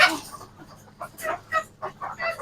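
Chickens on a poultry farm give several short, close clucks in irregular bursts, with quiet pauses between the calls.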